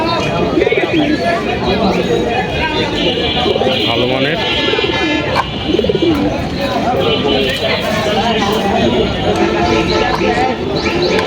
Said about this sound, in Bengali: খুব সুন্দর একজোড়া কালদম কবুতর